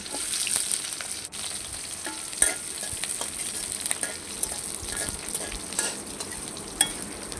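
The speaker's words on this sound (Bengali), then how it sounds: "পেঁয়াজগুলো যখন হালকা ব্রাউন হয়ে যাবে তখন আমি মাংসটা ছেড়ে দেব।" Onions fry in oil with cumin seeds in a pan for a chicken dish, a steady close sizzle with occasional stirring scrapes and a couple of sharp knocks.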